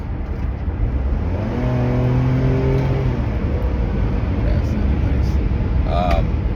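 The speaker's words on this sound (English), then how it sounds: "There's a truck." A truck passes close by a vehicle on a commute: loud, steady road and engine rumble with a rising whine, under continuous talking.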